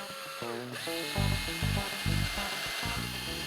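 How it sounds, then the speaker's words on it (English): A power drill whirs loudly, speeding up and slowing in short bursts as it bores a small hole in the end of a wood strip, close and alone. "I drill a small hole in the end of a strip of wood"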